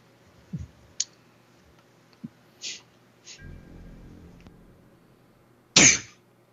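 A single sharp sneeze bursts out near the end, after a few scattered clicks, coughs and a brief low rumble in an otherwise quiet room.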